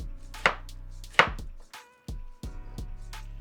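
A knife chops a large onion into tiny squares on a cutting board, giving several sharp close-up knocks at an irregular, unhurried pace with no speech.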